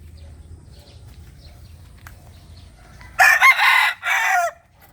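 A small, early-maturing young rooster crows loudly and close by, in two strained bursts near the end. Before that there is only faint low outdoor rumble.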